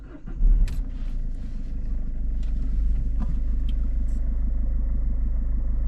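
A 2010 Peugeot 308 SW estate with about 116,000 miles fires up, giving a brief start burst and then a steady, close, low engine idle rumble with a faint jingle of keys and no talk.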